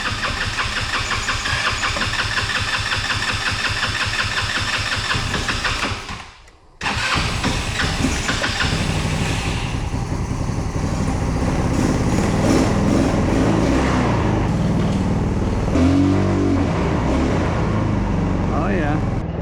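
An engine on a new carburetor sputters as it cranks, cuts out briefly, then catches and runs loud and close. It rises into rough revving, with voices talking over it.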